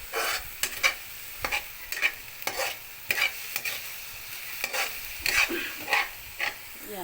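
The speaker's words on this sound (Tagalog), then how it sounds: "Halo nang halo para masarap." A utensil scrapes and clatters in a frying pan as string beans are stirred and sautéed, with repeated sharp strokes over a soft, steady sizzle, close up and without talk.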